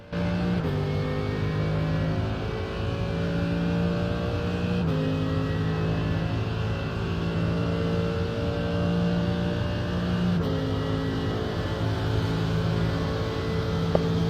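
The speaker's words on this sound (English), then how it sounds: "This was a fitting lap to show the Monza combined course, the final of a 22-lap, 60-minute race." A racing car lapping the Monza combined course during the final lap of a 22-lap, 60-minute race, its engine droning loudly and steadily with pitch sweeps at gear changes and no talking.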